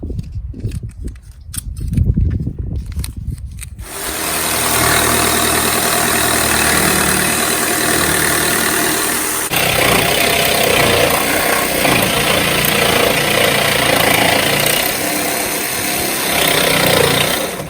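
A jigsaw cuts a window opening through the steel side panel of a Ford Transit van, its loud, steady buzzing drone running continuously for most of the stretch after some brief handling noises at the start.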